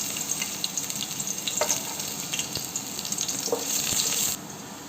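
Two garlic cloves frying in hot oil in a pan for egg fried rice, a loud hissing sizzle with scattered crackles and stirring clinks, ending abruptly, with no talk.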